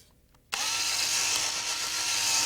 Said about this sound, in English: Drill out the head of the rivet by rotating the drill in an elliptical manner